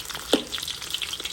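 Onions sizzle and crackle in very hot oil, a steady soft frying hiss with small pops over a brief moment.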